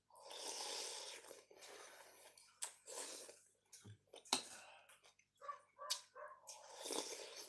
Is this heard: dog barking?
yes